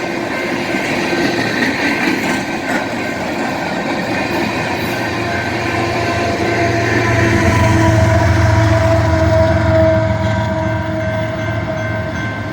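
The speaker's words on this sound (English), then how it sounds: "We got a train coming." BNSF train engine passing close by on the tracks in Detroit Lakes, Minnesota, a loud continuous rumble and rolling clatter of wheels with a swelling roar as it goes by, no voices.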